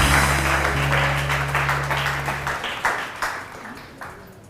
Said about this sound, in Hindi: इनकी मदद के लिए बहुत सारी ताली।